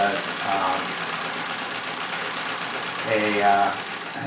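A Singer 66 red eye treadle sewing machine stitches steadily, its rapid mechanical rhythm running continuously while quilting, with a voice speaking over it.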